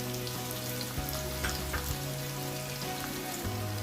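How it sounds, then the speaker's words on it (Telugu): Chopped onion pieces frying in hot oil for a chicken mango curry, a soft continuous crackling sizzle with faint pops, fairly quiet and without talk. "ఆయిల్ హీట్ అయిన తర్వాత ఆనియన్ ముక్కలు వేసుకొని ఫ్రై చేసుకోవాలి"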